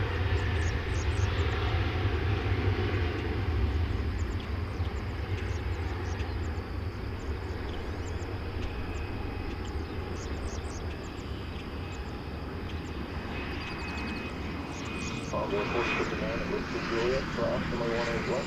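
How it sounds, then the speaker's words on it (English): A United airliner lines up for takeoff at DFW Airport at daybreak, its engines giving a steady, continuous roar with broad rumble throughout, and a voice talks over the engine noise. "There's that San Francisco bound United plane lining up behind this one."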